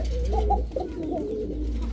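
A pigeon in a cage coos in soft, low, repeated warbling calls, close and continuous over a steady low background hum.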